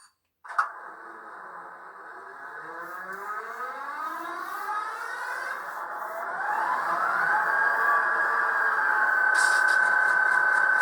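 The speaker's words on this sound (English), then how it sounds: "Of course, you hear it going through the startup sequence." A Tsunami 2 sound decoder in an Athearn Genesis BNSF FP45 model diesel locomotive runs its startup sequence: a click, then a prime mover cranking and rising into a steady, loud, droning idle with a brief hiss near the end.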